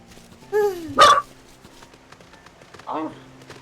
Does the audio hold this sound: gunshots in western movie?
no